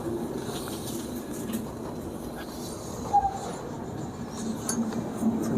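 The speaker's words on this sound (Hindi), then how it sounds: "दोस्तों ट्रेन अपनी सही समय पर पहुंच गई है पंडित दीनदयाल उपाध्याय जंक्शन।" Sampark Kranti Express pulling into Pt. Deen Dayal Upadhyaya Junction, a steady low rumble of rolling carriages with a few faint metallic clinks partway through, no talking.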